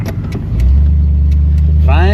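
A Pontiac Firebird convertible idles and pulls away, its engine settling into a steady low drone from inside the car, with brief clicks at the start and a voice speaking at the end.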